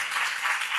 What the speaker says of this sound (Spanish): Y aplaudan